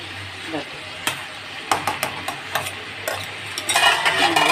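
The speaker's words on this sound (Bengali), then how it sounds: "এটাকে একটু ঢেকে ঢেকে বারে বারে নাড়াচাড়া করতে হবে" Ridge gourd being fried with scrambled egg in a pan, stirred with a utensil in a series of sharp scraping clacks over a steady sizzle, louder toward the end, with talking in between.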